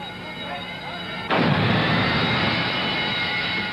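A building explosion reported during a news broadcast, with fire engines nearby: a sudden loud blast cuts in about a third of the way through, then a sustained roaring rumble.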